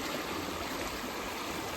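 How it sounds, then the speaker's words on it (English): A small mountain stream flowing past a shady lunch spot on a long-distance hiking trail, a steady close burble and hiss of running cold spring water, continuous and unbroken, with no voices. "Nice little stream flowing through."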